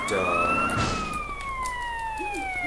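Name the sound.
ambulance siren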